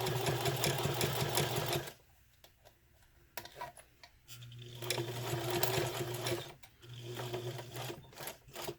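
A sewing machine runs in close bursts while top stitching a zipper pouch, with a fast mechanical whir, brief pauses and a couple of restarts, and no talk.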